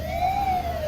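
A wailing emergency siren from an ambulance in the video game Dude Theft Wars, one steady sweeping tone rising and falling slightly, loud and close with no talk over it.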